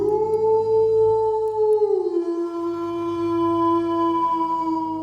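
A long, loud, wolf-like howl that holds a steady pitch, dips partway through and then carries on, sounding close and sustained over a low rumbling background.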